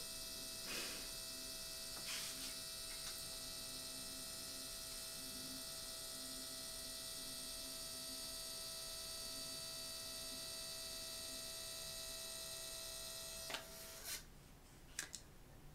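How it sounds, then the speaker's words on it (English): A photo printer runs with a steady, faint mechanical hum and whir, broken by a few soft clicks near the start and a louder clunk as it finishes near the end. "So it'll print out this and then the photo will come."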